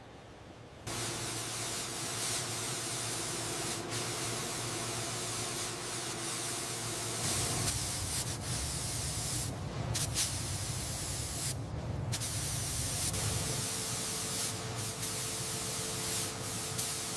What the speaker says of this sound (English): The paint coverage is flawless.